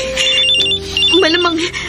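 Mobile phone ringtone in a Filipino radio drama, a bright electronic melody repeating its short phrase steadily and loud over a faint background.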